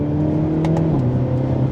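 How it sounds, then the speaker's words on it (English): Stock exhaust of a Hyundai Elantra N droning under acceleration on a winding road, steady engine hum with a couple of sharp pops crackling out in quick succession midway. "Ooh, that was a pop. That sounded cool with the stock exhaust."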